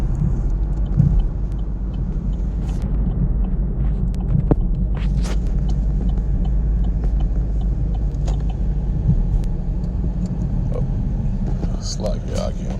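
Road traffic passing nearby, a constant low rumble of cars with occasional sharper swells, loud and continuous throughout.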